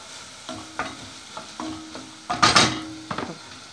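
A utensil scrapes and stirs through raclette cheese mixed with oregano in a dish, in several separate strokes with a louder scraping clatter partway through.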